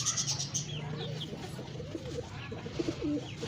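Fancy pigeons coo in low, rolling bursts nearby, several birds overlapping with soft throaty calls and faint higher chirps over a quiet room.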